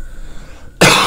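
A single sharp, close cough bursts out abruptly after a quiet stretch of faint room hum.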